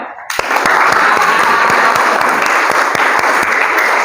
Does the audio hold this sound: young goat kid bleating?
no